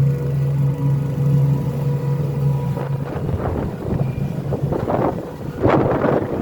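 Twin 2.7 boat engines drone steadily at sea under heavy wind buffeting the microphone, with gusty bursts of rushing air and water noise growing rougher toward the end.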